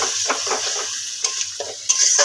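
Ground spices stirred and fried with a splash of water in a pan, a sizzling hiss broken by several sharp spatula scrapes and clinks against the metal.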